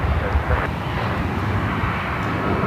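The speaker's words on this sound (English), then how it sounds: "This is Southwest Airlines flight 1355, heading to Las Vegas. On a 737-8." Southwest Airlines Boeing 737-8 taking off at Phoenix airport, a steady broadband engine roar held at a constant level throughout with no clear rise or fade, heard from a distance.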